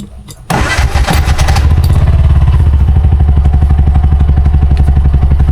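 Bajaj RE tricycle engine cranks and catches, then settles into a loud, close, rapidly pulsing idle with rattly mechanical clatter.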